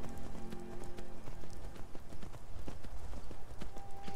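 Horse hoofbeats in the video game Skyrim, a steady fast clip-clop of galloping hooves close by, continuous throughout with someone talking faintly over it.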